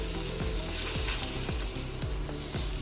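A blackened catfish fillet sizzles steadily in a hot pan, with a few soft scraping clicks as it is turned over and no voices.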